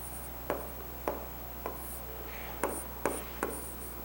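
Pen or pencil writing out an answer on paper, a series of short scratchy strokes in quick bursts, close and quiet against a low steady hum.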